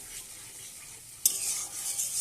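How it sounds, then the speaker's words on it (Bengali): Spice masala with potatoes being stirred and sautéed in a pan with a splash of water, a quiet sizzle that jumps louder after a sudden scrape of the spoon partway through. "আবার কষাবো এটাকে।"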